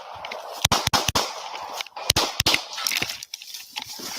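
Gunshots heard over a recorded police radio transmission: several sharp, sudden cracks in irregular bursts, a pair early, two more near the middle and a fainter one later, all against hissy, crackling radio static.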